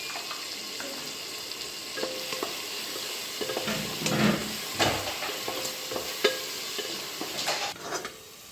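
Mutton frying in a pot with coarsely ground ginger, a continuous close sizzle broken by repeated scraping stirs and occasional clinks of the spoon against the pan.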